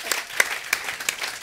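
Light applause in a quiet indoor setting, a few separate hand claps spaced apart over a second and a half, soft and sparse rather than a full crowd.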